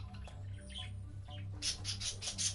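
Video game birds chirp and tweet in short bright bursts over a steady low ambient hum, growing busier and louder toward the end; no speech.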